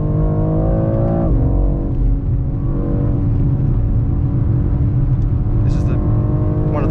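A 2023 BMW X4 M Competition with four-wheel drive, held in third gear on the Nurburgring circuit. Its engine drones loud and sustained from inside the cabin, with a rising rev partway through.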